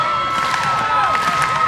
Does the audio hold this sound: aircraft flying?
no